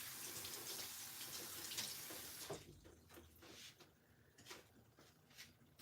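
Running tap water splashes steadily into a sink, then softens to intermittent rubbing and splashing as hands move under the stream; close, moderately loud.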